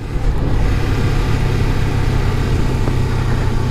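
A small motorcycle engine pulls in third gear around 4,000 RPM at about 22 mph, giving a loud, steady droning hum close to the rider with rushing wind and no talk.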